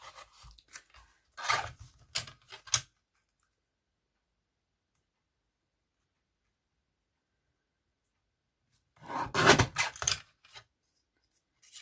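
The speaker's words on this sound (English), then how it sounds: "This will just trim this down with the trimmer." A paper trimmer slices cardstock for a handmade birthday card in two short bursts of crisp clicking and scraping, close and quiet, with a long silent gap between them.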